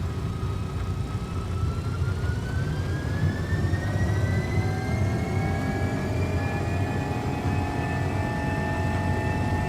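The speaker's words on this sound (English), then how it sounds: "set takeoff thrust" MD-11 jet engines in X-Plane 12 roar steadily at takeoff thrust, with a low rumble under rising whining tones that climb in pitch across the clip, loud and continuous without talk.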